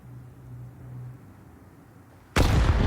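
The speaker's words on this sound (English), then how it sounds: "Oh, that nade is huge." Grenade explosion in Counter-Strike 2 during an esports match, a sudden loud burst arriving near the end after a quiet low hum, sharp onset with sustained broadband roar.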